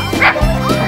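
A couple of quick, high yipping barks from a small dog of about 18 lbs, close and loud, followed by a short whimper.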